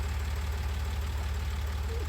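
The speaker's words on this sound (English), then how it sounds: "Jump back on our tractor and head back to the farm with it." Tractor engine idling in the video game Farming Simulator 19, a steady low throbbing hum with a regular pulsing beat, constant and close, without any talk over it.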